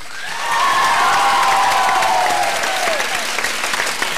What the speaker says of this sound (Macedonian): Да слушам аплауз за Добрица од Штип.